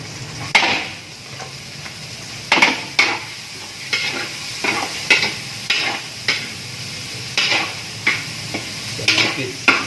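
Garlic and onion sizzle in a pan while a utensil stirs them: a constant frying hiss broken by sharp, regular scrapes and clinks against the metal, close and clear.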